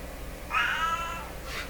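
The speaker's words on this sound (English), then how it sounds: "we're going to hear that meowing for the rest of this video" Indoor cat meowing close by, one clear drawn-out meow followed by the start of another, alone over a faint room hum.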